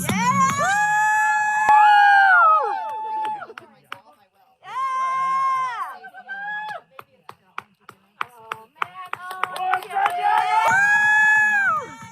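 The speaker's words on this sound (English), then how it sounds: "here they come. I think we need to cheer." A crowd cheering as people arrive at a hiking event, loud sustained whoops and shouts in bursts with gaps between, mixed with close voices and sharp clapping.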